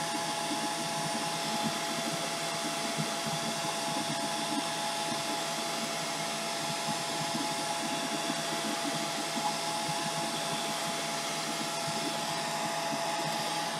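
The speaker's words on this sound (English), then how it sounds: "And look, my blow dryer works just as fast." A blow dryer used for drying craft pages runs continuously, a steady loud airy whirr with a motor hum that holds evenly from start to finish.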